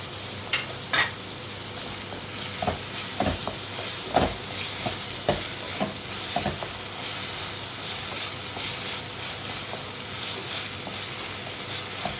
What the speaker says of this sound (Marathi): मी कांदा परततोय तोपर्यंत टोमॅटो घालूया